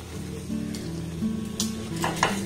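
Semolina barfi mixture being stirred in a hot pan gives a steady low sizzle with scraping strokes of the spoon against the metal, close and continuous, plus a few brief clinks.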